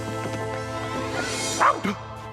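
A cartoon dog barks a few times in a Garfield pirate episode, with the short yelps rising briefly over a steady background music bed.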